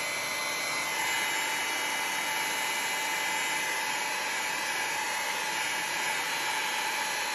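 A hair dryer blows steadily while drying watercolor paint on a card layout, a constant, fairly loud whooshing hiss with a high whine that runs without pause, with no talking.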